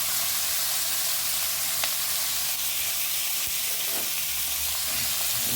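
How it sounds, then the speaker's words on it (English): Garlic and seasoning sauteing in a hot pan, a steady close sizzle and crackle of frying with occasional scraping stirs, continuous throughout with no talk. "Now we just go saute this a bit."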